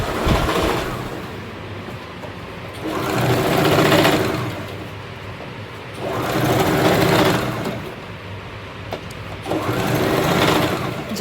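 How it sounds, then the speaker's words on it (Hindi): Sewing machine top-stitching a ready-to-wear saree, running in three long steady bursts separated by brief slowdowns, loud and close with no talk. "देखो, इसके ऊपर से हम टॉप स्टिच लगाएंगे ताकि ये दिखाई ना दे सिलाई।"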